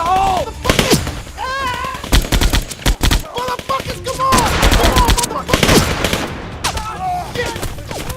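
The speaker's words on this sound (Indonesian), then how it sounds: "tiba-tiba mereka dikagetkan dengan tembakan dari beberapa arah" Rapid bursts of gunfire crack and echo from multiple points, some sharp and close, others sustained in dense volleys, with heavy booms mixed in.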